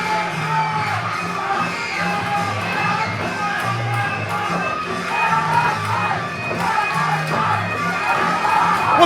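Wrestling event crowd at an independent show shouting, whooping and cheering in a continuous roar, voices overlapping and swelling louder toward the end.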